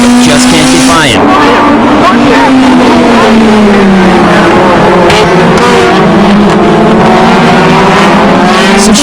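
Tsuchiya's TRD Hachiroku race car running in a circuit race alongside the KMS car, its engine a loud sustained drone near the microphone, dipping slightly and climbing again as it holds revs, with steady roar throughout.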